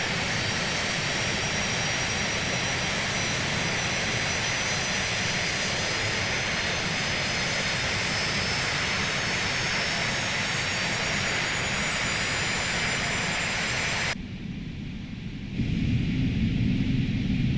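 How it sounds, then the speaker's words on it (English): MD80 jet engines spool up steadily in reverse thrust in a flight simulator, a loud, continuous roar with a rising whine that cuts out abruptly near the end before a lower rumble returns. "we're going to slowly increase thrust until the aircraft begins moving"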